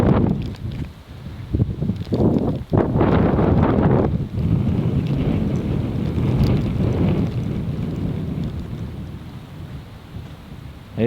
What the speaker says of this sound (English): It is also the wind.